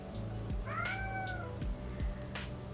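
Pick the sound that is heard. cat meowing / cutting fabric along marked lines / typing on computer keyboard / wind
cat meowing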